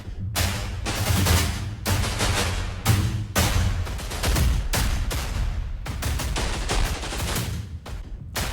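Epic trailer drums crushed by heavy distortion and tape-saturation effects hit as repeated loud, broadband bursts in an irregular pounding rhythm, each blast ringing briefly before the next.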